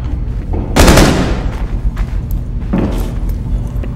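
Gunfire in a first-person shooter game, with two loud, close blasts about two seconds apart, each a sharp crack trailing into a rumbling decay over constant background noise.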